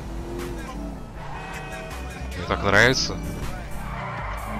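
Car engine in the GTA V video game with a sharp tire skid squeal rising midway, heard under someone speaking briefly in Russian.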